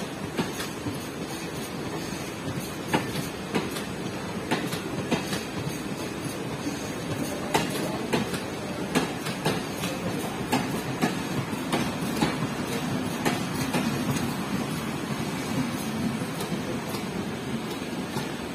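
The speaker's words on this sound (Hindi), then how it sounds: "दो मिल्क वैन के साथ चल रही है ट्रेन।" Passenger train running with two milk vans attached, heard from on board as a continuous rumble with steady rhythmic clicking of wheels over rail joints throughout, even and moderately loud.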